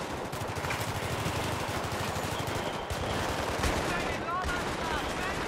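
A mounted machine gun in Battlefield 3 fires in long, rapid, loud bursts with a dense, steady rattle, close up and continuous, with a voice talking over it.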